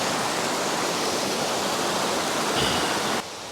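Creek water flows in a steady broadband rush, close and constant, softening slightly in the final moment.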